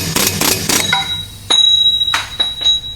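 Metal strikes hit a bearing race on a cast-iron Ford Super Duty 6.0 Eaton rear differential. A quick burst of clinks comes first, then several separate ringing hits as the race breaks loose, with a bright metallic ring lingering between them.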